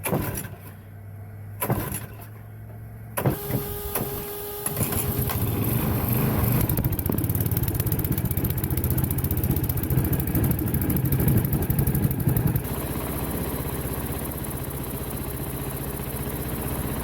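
A small motor runs steadily on wood gas produced by a homemade gasifier, with a few brief bursts and pauses before it settles into a continuous, close, fairly loud idle.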